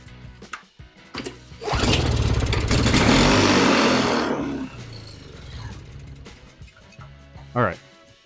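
A broken secondhand snowblower's small engine cranks, catches and roars for a few seconds after the choke is opened and starter fluid is sprayed in, running loud and rough before winding down, with voices talking before and after.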